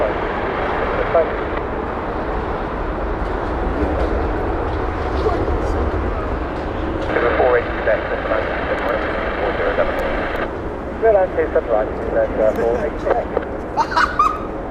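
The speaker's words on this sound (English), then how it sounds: "The Delta coming in, Airbus A330 to 300." A Delta Airbus A330-300 on final approach to land at Heathrow gives a continuous low engine roar throughout. Voices talk over it, partly masking the aircraft.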